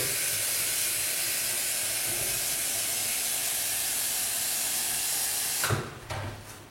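A steady, loud rushing hiss of water heating in an electric kettle fills most of the clip, then cuts off with a click and a few brief rattles.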